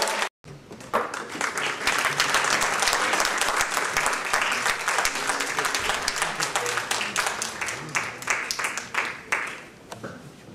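Audience at a 2013 charity gala applauding a singer: a dense wave of clapping that rises quickly after a brief pause, holds steady, then thins to scattered claps near the end.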